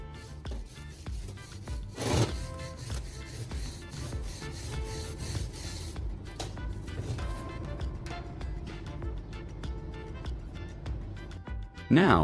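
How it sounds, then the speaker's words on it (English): A wire brush scrubs over a welded metal rake head, a close, continuous harsh scraping with uneven strokes and a few louder knocks. "I'm moving on to cleaning the entire rake head with a wire brush."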